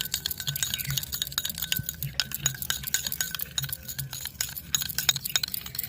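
Red colour stirred into homemade nail polish in a small glass container, with a quick run of light clinks and taps from the stirring utensil against the glass, close and fairly faint, and no voice.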